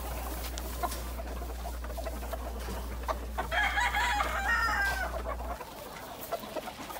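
Chickens and gamecocks in a yard, several hens clucking and a rooster crowing midway, fairly faint against a steady low hum and outdoor background noise.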